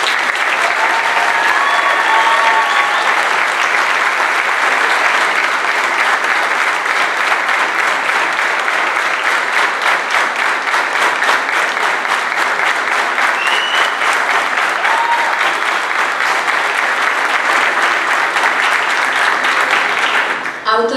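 A large audience applauds after a folk ensemble concert with a folk orchestra, sustained dense clapping that stays loud and even for about twenty seconds before stopping abruptly.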